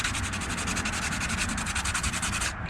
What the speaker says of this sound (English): So what I'm doing now is sanding the paint off right here